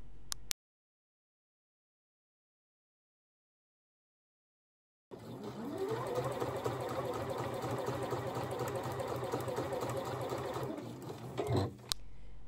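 A sewing machine stitches the pocket of a fabric tote bag, a steady, close, rapid whirring hum that runs for about seven seconds after a silent pause and then stops.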